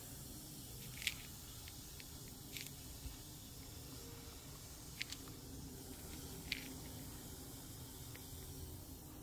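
Alka-Seltzer Plus Severe tablet fizzing in a glass of water, a faint steady hiss of bubbles with a few soft pops and ticks, close and quiet with no talking.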